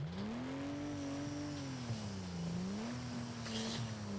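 Rally cars on spiked tyres drifting on an ice track, with a steady engine drone that rises and falls in pitch as they rev and slide, heard continuously from a moderate distance.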